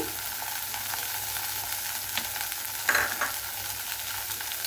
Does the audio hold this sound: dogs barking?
no